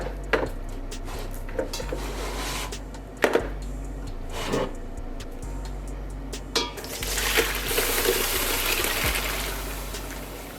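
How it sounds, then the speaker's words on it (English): Boiled potatoes being drained in a kitchen, with water and stock gushing out and pots and lids clattering at intervals, close and fairly loud with no speech. "We're going to take these potatoes and drain them off."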